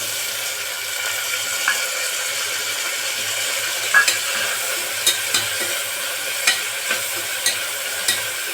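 Tomatoes and fresh green peas frying with bay leaf, star anise, cinnamon and cardamom in a pan, a quiet steady sizzle punctuated by scattered light clicks and taps of a spoon.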